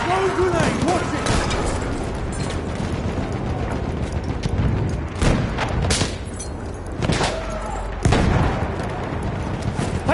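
Booming blasts and rattling gunfire fill a busy video-game firefight, with heavy, continuous loud impacts and explosions throughout and voices shouting over the combat.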